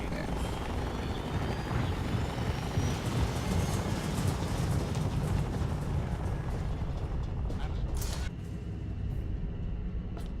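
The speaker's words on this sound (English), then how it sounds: "And then we see the helicopter." A helicopter in Fallout 3 roars loudly and continuously with heavy rotor rumble and wash, easing slightly near the end as a few sharp game sounds cut in.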